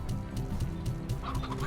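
Game chickens clucking in Slime Rancher, a run of short overlapping clucks and squawks over a steady bed of background game audio and music.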